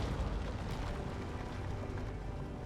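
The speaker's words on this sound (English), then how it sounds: "This is the kind of good explosion I like hearing." Rocks blasting apart while being mined in the multiplayer game Dig Boys, a dense, rumbling eruption of low booms that stays loud and steady across the whole stretch, with no talking over it.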